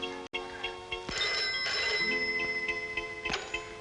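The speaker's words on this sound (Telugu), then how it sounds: "ఉండు, నేను ఫోన్ చేస్తాను" A telephone rings in a repeating electronic trill while a call is being placed; the tone is steady and moderately loud, with no voices.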